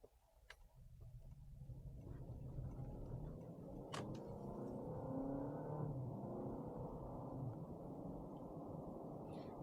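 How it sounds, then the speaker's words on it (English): A 2023 Honda CR-V hybrid engine pulling away and building speed, with a steady mid-range drone that rises and falls in steps like simulated gear shifts, heard from inside at moderate loudness. "I hear it sound like a simulated gear system in the transmission"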